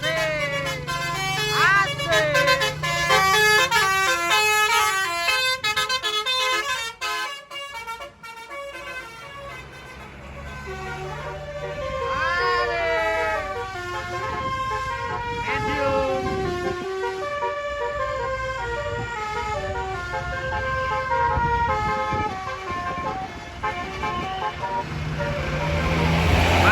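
Indonesian buses sound their musical telolet horns in heavy traffic, a long run of loud, tuneful multi-note toots with rising melodic phrases repeating over engine rumble while people talk.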